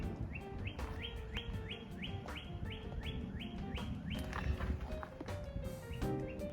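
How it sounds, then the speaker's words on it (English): Birds chirp repeatedly in a rapid, rhythmic series of rising tweets over a busy outdoor background of rustling and distant noise in an urban Florida garden. "Y'all hear the birds?"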